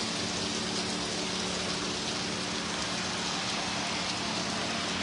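Heavy summer rainstorm in Montana, a steady dense hiss of downpour falling hard and continuously on surfaces nearby, with no voices.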